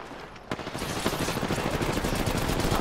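Rapid automatic gunfire in the Apex Legends battle game, a sharp crack opening a sustained, dense stream of shots that stays loud and close to the end.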